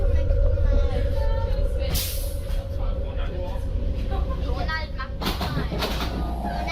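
A train rolls through Vienna, its steady low rumble and hum running throughout with bright hissing bursts of brake or air release around two seconds and again near five seconds, and faint voices in the carriage.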